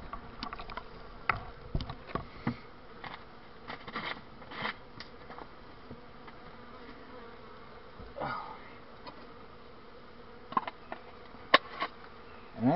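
Honey bees buzz around a winter feeder, faint scattered passes of individual bees flying close by, rising and fading over a quiet background.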